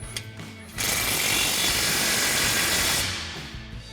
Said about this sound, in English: we've got our 8mm Allen socket on our impact. We'll go ahead and tighten this down.